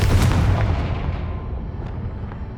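The Confringo fire spell in the video game Hogwarts Legacy bursts in one loud, booming explosion that rumbles and fades over a couple of seconds.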